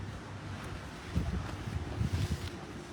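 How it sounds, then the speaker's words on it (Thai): Strong wind gusts buffet the microphone outdoors, a constant rushing roar with louder thumping surges in the middle, no voices over it. "ลมพัด"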